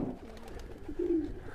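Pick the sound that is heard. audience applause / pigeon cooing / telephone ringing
pigeon cooing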